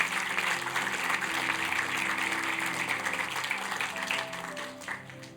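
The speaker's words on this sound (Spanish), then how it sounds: "dale un aplauso al Señor y dile gracias" Church congregation clapping in praise during a service, a dense, steady wash of applause from many hands with organ or keyboard tones underneath, tapering off toward the end.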